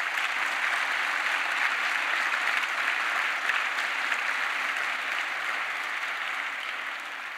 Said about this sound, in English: Let's just applaud them once more.